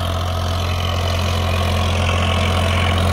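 Tractor engine idling in a sugarcane field, a steady low rumble with continuous mechanical drone, loud and close throughout with no talk.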